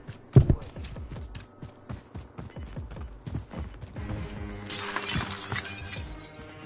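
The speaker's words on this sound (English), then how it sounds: "Heard a glass break." Glass shatters in a PS4 video game with a sudden loud crash near the start, followed by a run of rhythmic thuds and a wash of hissing game noise, with no talk.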